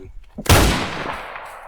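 A single sharp gunshot in a Roblox shooting game cracks loudly and rings out in a long decaying tail, preceded by faint background sounds.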